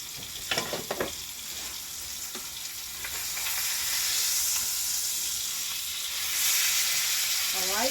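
Blackened speckled trout fillets fry in a pan with a steady close sizzle that grows louder and denser midway, with a few light clinks and scrapes early on.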